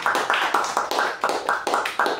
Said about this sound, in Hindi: यार उस मां के लिए तालियां मारो।